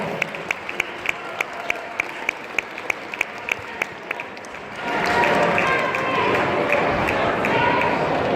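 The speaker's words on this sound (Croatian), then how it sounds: "Ajmo još malo aplaudirati, još malo pljeska, zaslužili ste" Audience applause after a Croatian folklore troupe's performance, a dense, steady clapping that swells in and holds, following a stretch of regular rhythmic beats, with a voice speaking over it.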